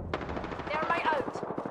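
Rapid automatic gunfire in the video game Apex Legends, a loud, close stream of evenly spaced shots firing without a break across the whole moment.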